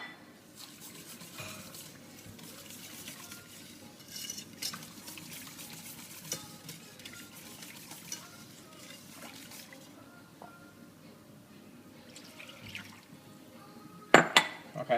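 Gravy being stirred in a pan as stock is added for a roasted pork loin dish, soft steady scraping and liquid swirling at low level with occasional clinks, no talking.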